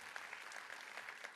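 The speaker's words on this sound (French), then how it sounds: "on les applaudit aussi" Audience applause at a ceremony opening, a dense, continuous wash of clapping from a large crowd, steady and moderately loud throughout.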